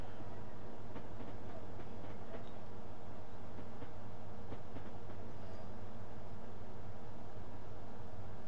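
In Train Simulator 2014, a high-speed train runs on the London to Faversham line with a steady, loud rolling rumble and hiss, faint rhythmic clicks from the track joints carrying on throughout, with no talking.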